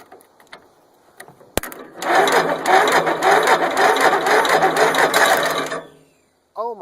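An old engine, dormant for 23 years and primed with sprayed starting fluid, cold-starts suddenly with a loud rapid mechanical clatter that runs roughly four seconds before cutting out, followed by a brief voice.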